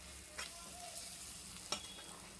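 Ginger-garlic paste fries in a pan for a tomato curry, a quiet steady sizzle with a couple of brief stirring scrapes.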